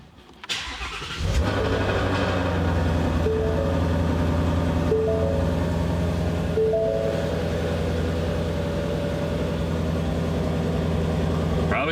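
A repaired Mustang GT350R fires up and drives off, its engine a steady, loud mid-pitched drone with shifting tones as it pulls along, a voice briefly heard over it.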